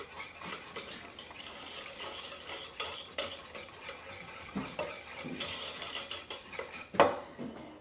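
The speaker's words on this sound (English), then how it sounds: "Then whisk it all together." A milk mixture for a fruit tart is whisked off the heat, with quick irregular scraping and clinking of a whisk against a bowl, close and fairly quiet, ending in a sharp clink.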